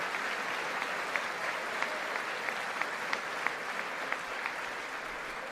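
Members of Congress applaud during the 2020 State of the Union address in a large chamber, sustained dense clapping with occasional sharper individual claps standing out, fairly distant and even throughout.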